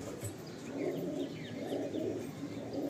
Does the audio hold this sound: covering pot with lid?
no